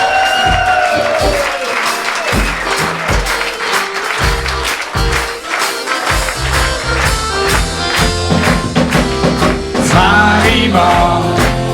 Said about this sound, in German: ganz einen riesen Applaus